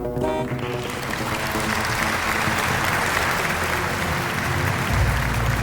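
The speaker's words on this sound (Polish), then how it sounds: "wielkie dzięki i wielkie brawa" Continuous applause from many hands, a thick, even crackle of clapping that stays strong and close from start to finish with no voices over it.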